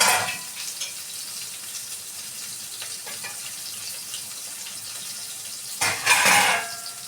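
Stuffed brinjal frying in a pan of gravy with coriander and onion, giving a steady soft sizzle throughout and a louder burst of hissing near the end, close by with no talking.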